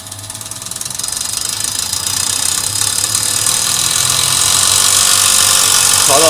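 A VP44 diesel injection pump runs on a test bench, a loud, steady mechanical drone with rhythmic knocking that builds as the pump spins up and holds at speed.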